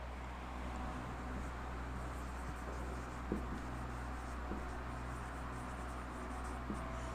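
Pen or marker writing on a board during a vocabulary lesson, faint scratchy strokes and a few soft taps over a steady low background hum.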